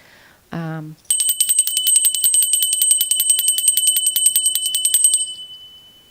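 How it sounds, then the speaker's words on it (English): After a short tone, a small bell rings rapidly and continuously for about four seconds with a bright metallic jingle, then fades out. "Then I got this is a witch's bell."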